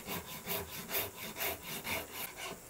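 A Shinto rasp shapes the edge of a wooden guitar body, giving steady rhythmic rasping strokes about every half second, close and fairly loud with no talking.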